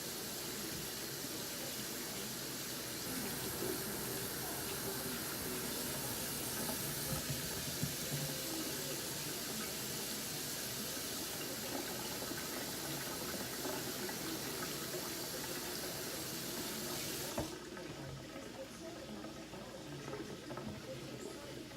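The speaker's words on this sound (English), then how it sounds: "Let me wash my hands real quick." Tap water runs steadily into a kitchen sink while hands are washed between cooking steps, a continuous close splashing hiss that drops off sharply near the end as the flow is shut off.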